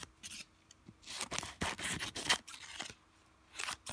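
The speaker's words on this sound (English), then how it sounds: "cut off all of the excess transfer tape so it's not like sticking to everything" Scissors snip through excess vinyl transfer tape, a run of close, crisp cuts and scraping rubs in irregular bursts, with no voices.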